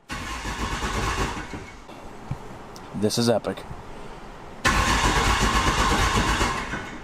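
Cummins diesel engine in a Mustang cranks over briefly with a rhythmic starter chug, amid cabin noise and someone speaking, then a loud broadband rush takes over.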